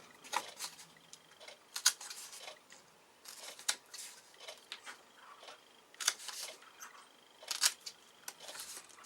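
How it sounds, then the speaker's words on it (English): Scissors snipping out the small corner boxes of a paper folder cover, a series of quiet, close crisp cuts and paper rustles arriving in irregular clusters against near silence. "where we had our score lines meet again in the corners, those little boxes, we need to cut them out the same as we did on the cover"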